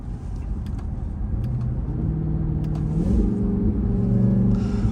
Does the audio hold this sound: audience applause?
no